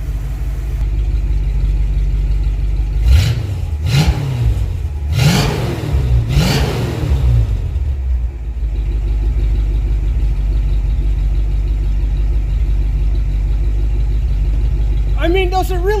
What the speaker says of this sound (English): Let's get you an exhaust note out the back too.